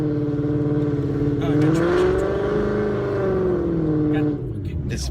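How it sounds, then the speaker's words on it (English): A Ford Mustang engine revs hard during a burnout, its droning tone climbing and sagging over about five seconds before easing off, loud and close, with people talking over it. "Let's do the burnout, and we'll just go home nice and mellow."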